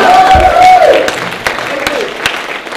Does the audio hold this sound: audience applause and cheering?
yes